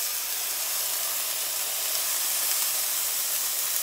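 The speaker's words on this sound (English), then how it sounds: "you want to get a nice sear on your roast" A pot roast sears in hot oil, giving a loud, even, broadband hiss that holds steady without breaks, close up, with no voices over it.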